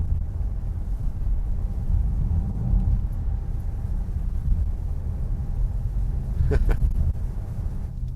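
A 2025 Ford Kuga ST-Line SUV driven hard on a road gives a steady, loud low engine and road rumble throughout, with a brief higher whine near the end.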